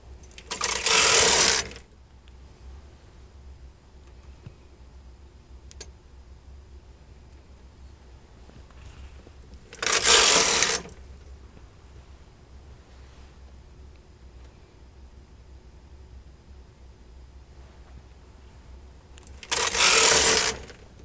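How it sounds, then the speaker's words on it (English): Knitting machine carriage pushed across to knit a row of yarn, three separate loud whooshing, rattling passes roughly ten seconds apart, close, with near silence between them and no talk. "place the yarn underneath the needle and knit one row"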